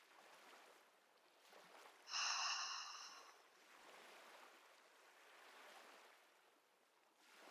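A loud nasal exhale with a constricted throat, an ocean-like rushing breath, stands out for about a second and a half amid quiet, softer breathing, with no talking.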